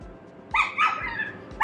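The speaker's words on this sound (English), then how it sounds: "Excuse my next door neighbor's dog" A next-door neighbor's dog barks outside, a few sharp yelps in quick succession, moderately loud and somewhat distant, with no speech over it.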